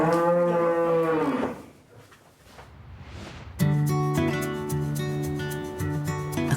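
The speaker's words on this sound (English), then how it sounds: "with 15 more hopeful heifers" Heifers moo loudly nearby, one long drawn-out low call fading away, then after a short pause another deep, sustained moo, with no talk over them.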